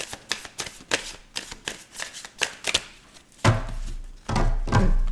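Tarot cards shuffled for a seven-card spread, a rapid series of close riffling snaps and slaps followed by two longer continuous shuffles.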